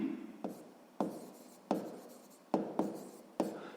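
Pen strokes on paper while a sixth-grade math solution is written down, six sharp scratchy onsets, each trailing off into a rubbing drag, spaced roughly evenly, close and fairly quiet with no talk.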